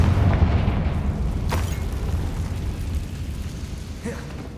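A Confringo blasting spell goes off in Hogwarts Legacy, a loud low booming explosion with a rumbling tail and a smaller crackling burst toward the end, alone with no talk.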